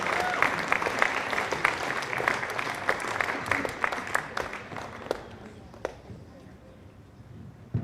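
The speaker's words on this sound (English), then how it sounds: "final big round of applause for our medal winners of the BC1" Spectators at a national boccia championship applaud the BC1 singles medal winners, a loud crowd of distinct claps that rolls on for several seconds, with voices underneath, before thinning out and fading near the end.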